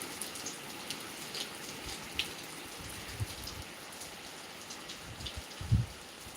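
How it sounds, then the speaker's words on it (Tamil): Summer rain in Gobichettipalayam, Erode district, falls as a steady soft hiss of light rainfall with scattered individual drops tapping nearby surfaces, with a few louder drips near the end and no voices. "இப்போ பெஞ்ச மழை"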